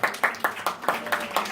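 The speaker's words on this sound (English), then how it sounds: "Please give another big round of applause." Audience at a Dream Center event claps in a quick burst, about seven sharp claps in an even rhythm, close and moderately loud, with no talk.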